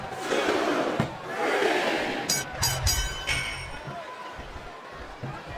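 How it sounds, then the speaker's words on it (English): Video game crowd noise from a WWE SmackDown vs. Raw 2007 wrestling match, a loud continuous roar with swelling cheers and a few sharp bursts throughout, heard under a commentator's voice. "I think this crowd's giving these superstars a piece of their minds, King."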